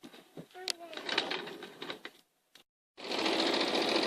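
A home sewing machine stitching a quilt, its pedal pressed as a steady, busy mechanical whir fills the last second after a brief gap; before that, mixed tapping and a voice sound nearby.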